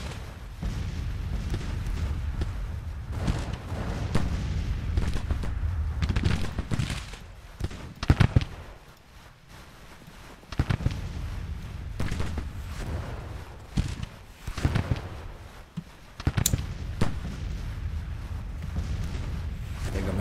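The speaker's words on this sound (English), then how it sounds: "Artillery, let's get you firing at will." Civil War artillery in Grand Tactician: The Civil War, fired at the Battle of Front Royal Bridge: repeated booming cannon shots at irregular intervals, some near and heavy, others more distant, over a rumbling battlefield background.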